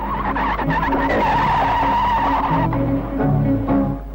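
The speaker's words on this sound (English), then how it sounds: "men learn to keep mastery of a car in a continuous, controlled skid" A car held in a continuous controlled skid on an advanced police driving course, the tyres giving a steady loud squeal with wavering pitch over engine drone for about four seconds.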